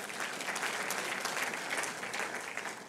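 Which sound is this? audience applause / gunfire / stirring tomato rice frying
audience applause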